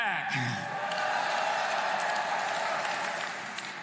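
A large AIPAC 2019 audience applauds to welcome Vice President Mike Pence, with dense clapping and some whoops from a crowd that fades slightly toward the end.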